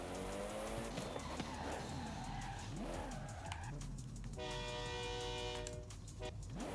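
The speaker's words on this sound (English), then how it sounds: "Get a train horn and scare people" A car's aftermarket train horn in Forza Horizon 5 blares in sustained multi-tone bursts over steady engine drone and game sounds, loud and close, with a stronger held blast near the end.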